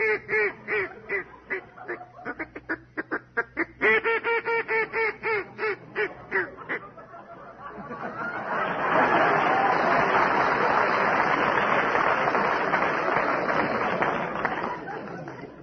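A duck call blown in a studio game-show setting, giving a run of short nasal quacks that settles into a sustained raspy buzzing chatter, loud and close.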